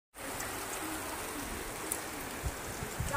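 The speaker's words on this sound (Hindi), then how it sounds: "और ये देखो कितनी तेज बारिश आ गई है, बारिश आ गई है बहुत तेज।" Heavy rain pours down in a steady, dense hiss that holds from start to finish, with a few louder drops spattering close by and no voices.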